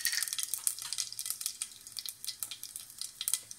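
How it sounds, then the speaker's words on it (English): Cumin seeds sizzling in hot oil in a pan for an Indian green pea soup, giving a steady close hiss that crackles and spits throughout, with no talking. "So we've got oil in the pan and then we put cumin in there"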